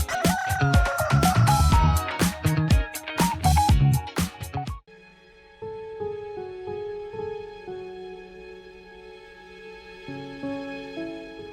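A rooster crows inside a house, a loud drawn-out call heard over busy music-like sound for the first few seconds, then followed by quieter sustained tones.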